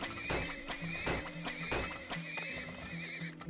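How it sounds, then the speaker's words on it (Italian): Horses in the video game Turmoil, repeated sharp neighs and whinnies in quick succession with rhythmic hoof clip-clops underneath, loud and close with no talking. "Giù tanti cavalli."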